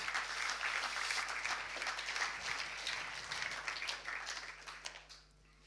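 An audience at a church conference applauds in a large hall with dense, steady clapping that tapers off near the end into scattered claps and room tone. No voices are heard.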